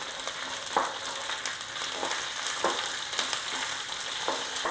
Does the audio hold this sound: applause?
no